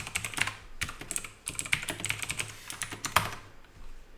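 Rapid typing of code on a computer keyboard, a dense run of close, crisp key clicks with uneven bursts and brief pauses, alone with no talk.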